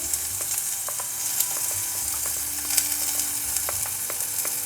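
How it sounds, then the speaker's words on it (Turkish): Finely chopped onions sautéing in butter in a pan, a steady close sizzle with scattered crackles and pops running throughout. "Soğanlar biraz pembeleşinceye kadar kavrulacak."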